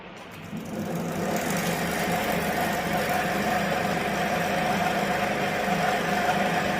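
A machine winding the coil of a ceiling fan runs with a steady mechanical hum and whir, a constant close drone that starts up in the first half second and holds level throughout.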